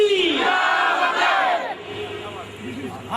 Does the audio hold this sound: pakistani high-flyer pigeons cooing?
no